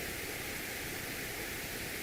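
Steady pink noise plays continuously, a soft even hiss that sounds gentler than white noise, alone and unbroken with no voices.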